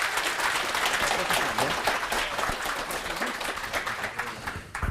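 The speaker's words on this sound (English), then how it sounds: "please, once again, give a very well-deserved round of applause for the one and only John DeGos" Audience applause for a keynote speaker at a tech conference: dense, sustained clapping from a sizeable crowd that fills the room steadily for about five seconds, then starts to thin at the end.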